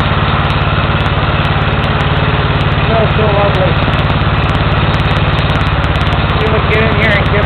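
An engine in need of a rebuild, smoke pouring from the back, idles with a steady, loud, low rumble throughout, while a voice speaks briefly over it.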